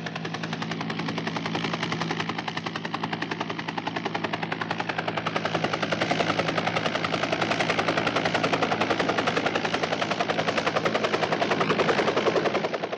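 A helicopter sets down at a landing site atop a remote tepui mountain, its rotor beating in a steady, loud, continuous rhythmic chop with dense engine roar throughout, no voices heard.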